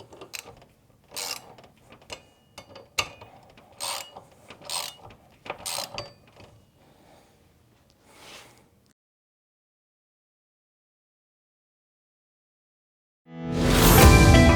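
Snow guard clamp being torqued down onto a 1-inch single lock metal roof seam: a run of sharp ratcheting clicks and metallic bursts for about eight seconds, then silence, with a loud burst of noise at the very end.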